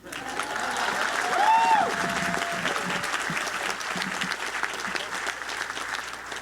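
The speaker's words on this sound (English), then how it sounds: "I think everybody deserves another round of applause." A round of applause from an audience at an Oakland Promise education event, dense clapping holding steady for several seconds with a brief tonal squeak or whistle early on.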